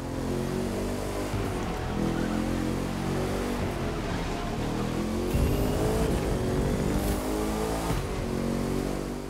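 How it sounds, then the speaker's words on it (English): A Bugatti supercar in The Crew 2 drives hard near the Colorado mountains, its engine droning steadily and rising and falling in pitch through gear changes, with a brief tire squeal, close and loud throughout. "the vehicle we are driving here is currently the most expensive in the game. It's a Bugatti."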